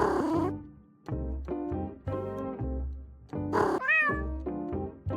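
A cat in a video game meows repeatedly while being petted, several clear, close meows with short gaps between them, heard alone without any talking.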